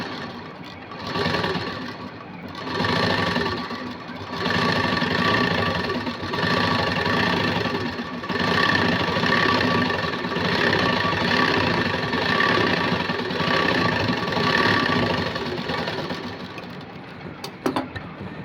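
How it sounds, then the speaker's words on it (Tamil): Close and loud, a sewing machine stitches two spread-out cloths together in a long continuous run, its motor humming with a fast rhythmic needle chatter that holds steady throughout. "இப்போ 2 கிளாத்தையும் விரித்து வச்சு ஒரு படிமான தையல் போட்டுக்கோங்க."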